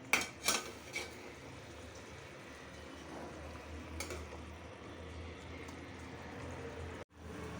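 Cooking pots swapped on a home stove, with a few sharp metal clanks and knocks at the start, then quiet low background rumble and another faint clatter later.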